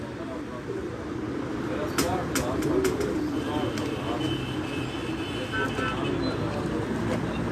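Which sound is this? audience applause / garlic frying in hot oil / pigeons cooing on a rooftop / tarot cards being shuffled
pigeons cooing on a rooftop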